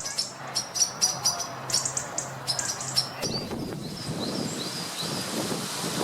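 Resident birds in the trees and undergrowth of Diagonal Mar park in the evening, a series of high thin chirps repeated several times at a moderate distance, fading out as wind noise and rustling take over.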